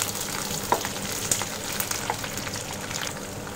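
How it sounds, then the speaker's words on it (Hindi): Capsicum fries in a kadai, making a moderate, even sizzle with a few small pops and scrapes, heard close up with no voices. "शिमला मिर्च डालने के बाद 2 मिनट हम इसे भी फ्राई कर लेंगे"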